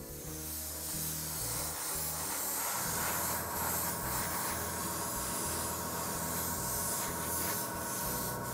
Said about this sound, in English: I now seal the paint job with some clear varnish.